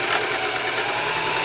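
A sewing machine runs steadily, stitching a fabric seam with about a half- to three-eighths-inch allowance, a close, continuous whirring hum with no pauses and no voices over it.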